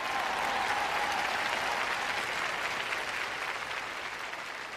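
A large church congregation applauds during a sermon, a dense, sustained roar of clapping that stays loud throughout and slowly tapers near the end.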